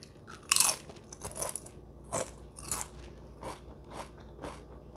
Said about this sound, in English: first thing I want to do, of course, is try my Sun Chips